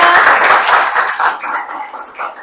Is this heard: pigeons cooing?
no